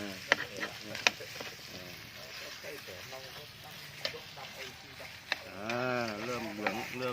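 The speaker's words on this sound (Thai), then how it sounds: "มีเตาธรรมชาติผัดกับพริกแกง หอม ๆ นะครับ" Catfish stir-fried with curry paste over a natural wood-fired stove, a steady sizzle with occasional sharp clicks of stirring running under continuous close talking.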